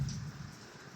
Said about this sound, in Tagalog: Sobrang ulan kasi.